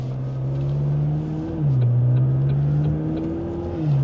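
A McLaren 540C sports car driving with its engine droning steadily, rising and falling in pitch as it revs and shifts, heard continuously from inside the cabin without talk.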